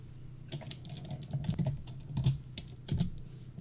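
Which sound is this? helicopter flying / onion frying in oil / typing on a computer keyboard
typing on a computer keyboard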